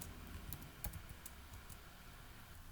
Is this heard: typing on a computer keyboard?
yes